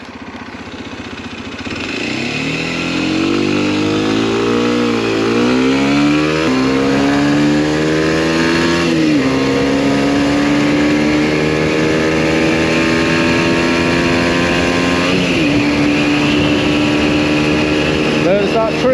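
A Kawasaki Z125 motorcycle rides in traffic, its small engine droning loud and close with rising revs through gear changes and a steady whine between shifts, under constant wind noise.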